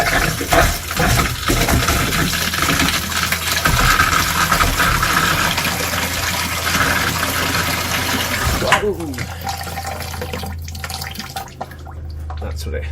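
Water from a houseboat's newly plumbed pump line pours into a bucket, a steady loud splashing rush that stops abruptly, leaving a low hum as a person speaks briefly.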